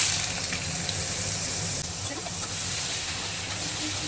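Small potato pieces fry in a wok with cumin and bay leaf, giving a steady, close hiss and sizzle that holds at one level throughout without any talk.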